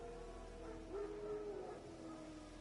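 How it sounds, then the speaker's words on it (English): Wild dogs in the game Witcher 3 let out a faint, distant howl lasting under a second, half lost in a quiet, noisy background. "No. Wild dogs."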